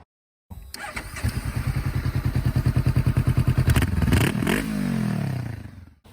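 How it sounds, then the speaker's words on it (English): A motorcycle with a baffled exhaust fires up and idles with a steady, rapid throbbing pulse, then revs briefly and settles, loud and close. "Now the baffled exhaust is what I use in my intro for the motorcycle videos."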